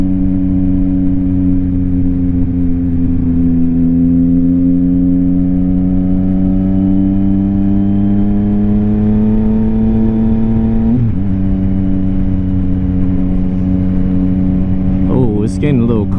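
A Yamaha XSR900 motorcycle with a Kelpi shorty exhaust is ridden on a cold road, its engine note steady and loud close by, rising slowly in pitch, dipping briefly at a gear change, then climbing again.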